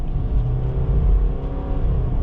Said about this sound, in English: It revs pretty nice.